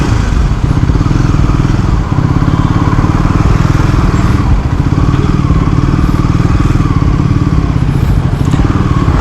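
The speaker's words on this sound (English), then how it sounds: "I prefer to always take my motorcycle despite the inherent risks that are involved during my everyday commute to work" A Triumph Scrambler 400X motorcycle engine rumbles steadily and loudly up close in commuter traffic, idling and creeping with constant mechanical clatter and no pauses.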